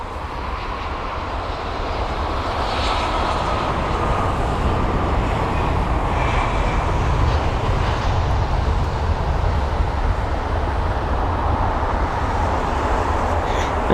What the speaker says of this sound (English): that was BA 1483, the British Airways A319